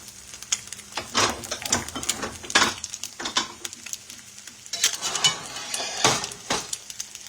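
Eggs frying in an iron skillet, a soft sizzle under irregular scraping and clinking of a utensil against the pan, close by with no speech.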